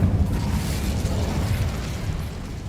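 Incendio fire spell cast in the Hogwarts Legacy video game, a steady roaring burst of flame that holds loud and dense throughout, with no voices over it.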